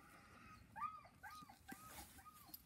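Whimpering from a dog being trained to meet other dogs, a series of four short, rising-then-falling whines spaced about half a second apart, fairly faint against a low background rumble.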